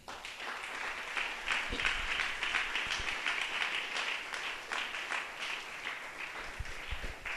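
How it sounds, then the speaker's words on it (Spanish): A church congregation applauds the Lord after a sermon, a soft, distant wash of many hands clapping that swells slightly midway and holds steady at low volume. "¿Cuántos le brindan un aplauso al Señor?"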